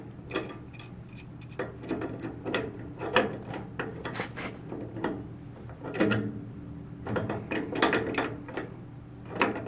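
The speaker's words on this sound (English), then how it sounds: "Adjustable wrench out here." Adjustable wrench snugging the thermocouple nut on a hot water heater, giving a steady run of close, dry metallic clicks and ratcheting ticks for several seconds with no talking.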